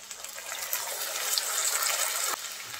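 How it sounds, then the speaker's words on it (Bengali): A little water is poured into spices cooking in a pan, producing a close, steady gushing splash that stops abruptly near the end, with no talking. "একটুখানি পানি দিয়ে দেব।"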